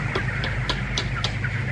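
Chickens cluck softly in short, scattered calls over a constant low hum, as if inside an enclosed coop.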